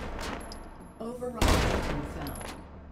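Tech 9 gunfire in the VR game Hot Dogs, Horseshoes & Hand Grenades: a quick rattling burst of shots mid-clip, fairly close, after a voice speaking briefly beforehand.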